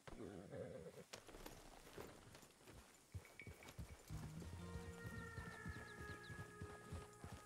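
Wagon horses in the RedM game trot away toward the impound, a steady run of hoof clip-clops over a dense game-world bed with people talking across it.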